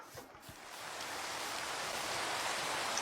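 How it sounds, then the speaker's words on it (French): Rain falling in a foggy video game world, a steady broadband hiss that swells in the first second and then holds even and moderately loud, with no talk over it. "Oh non, il y a de la pluie dans ce chunk."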